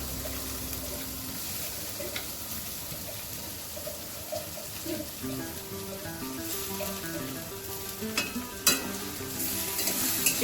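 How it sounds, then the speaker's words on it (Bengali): Chopped onion is stirred in a pan after garlic, a soft sizzle under scraping and spatula knocks, with running tap water and faint kitchen noise in the background. "পেঁয়াজ কুচিটা দিয়ে ভালো করে নাড়াচাড়া করে"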